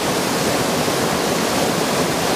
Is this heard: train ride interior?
no